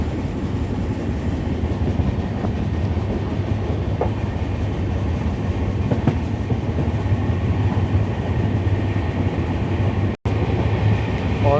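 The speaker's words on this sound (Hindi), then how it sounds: "यहाँ प्यारा सा कर्व लेती हुई हमारी ट्रेन" The 17642 Narkher–Kacheguda Intercity Express rolls through a curve on a double line, with a steady loud rumble of wheels and a faint clickety-clack throughout, and one brief dropout near the end.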